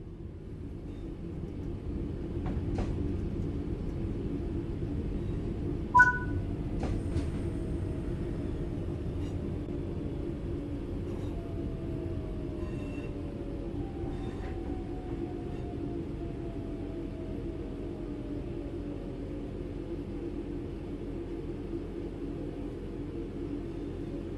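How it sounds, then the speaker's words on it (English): A train in the Train Sim World game rolls and slows under braking with a continuous low rumble, a few brief clicks and tones from the cab, and a faint descending whine as it eases toward a stop; no one speaks. "this train to a complete stop by moving the power brake handle into the braking range."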